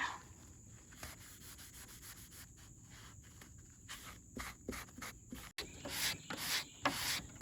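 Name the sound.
light sanding of wood pieces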